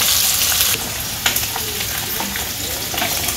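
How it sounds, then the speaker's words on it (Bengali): Eggs fry lightly in a pan, giving a loud, steady close-up sizzle with a few small crackles and no talk. "আমার ডিম ভাজা হয়ে গেছে, হালকাই ভাজানো, বেশি ভাজলে ভালো লাগে না, শক্ত হয়ে যায়।"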